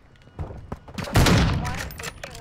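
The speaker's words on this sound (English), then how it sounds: "Fucking splinter cell right now with the suppressed pistol." Suppressed pistol shots in a co-op shooter video game, a few muffled pops building into a louder burst of gunfire near the middle, with talk around them.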